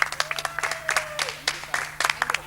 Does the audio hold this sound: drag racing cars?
no